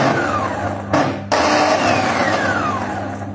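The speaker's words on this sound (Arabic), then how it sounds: "الصوت التخبيط ده صوت جلبة وحشة، الجلب كده وحشة، فالأكس بيخبط" A Turkish Tornado food processor motor with worn bushings runs loudly and steadily, its shaft knocking inside a rough, whirring drone that dips briefly near the start, then carries on alone.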